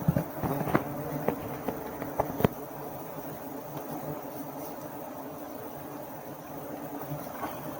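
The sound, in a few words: bees buzzing around a hive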